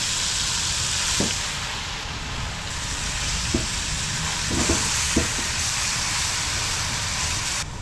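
Tilapia sautéing in a pan gives a steady, close sizzle that runs the whole time, with a few soft clicks and stirring knocks breaking through it.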